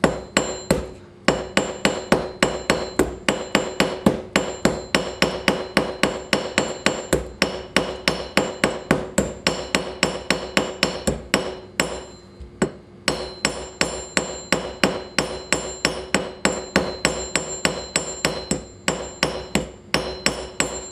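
A hammer strikes the end of a nail to mushroom it over a washer while making a brigandine cuisse, giving sharp ringing metallic blows in a fast steady rhythm with two short pauses.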